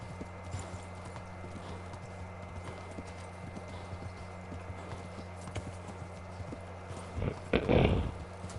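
In the medieval game Kingdom Come: Deliverance, a horse's hooves clip-clop in a steady walking rhythm over a low ambient background, ending in a brief louder rustle.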